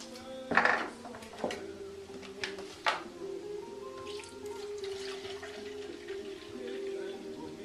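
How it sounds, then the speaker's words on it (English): Milk poured into a container for an Italian bread pudding, a soft liquid trickle with a few clinks and splashes, faint music in the background. "We need to add 2 cups of milk."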